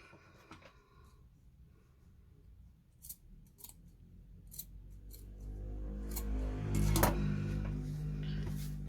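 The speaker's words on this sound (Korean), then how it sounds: "가위질을 해서" Scissors snip thin, ironed fabric for a Korean hanbok-style sleep robe, with several crisp separate cuts close by, followed by lower rustling handling noise.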